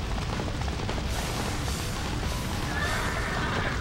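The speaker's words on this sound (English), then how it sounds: "Wait, he's got another horse?" A horse neighs in the Dynasty Warriors 4 video game, set during a Yellow Turban Rebellion battle, buried in a dense, continuous wall of loud battle noise that runs throughout.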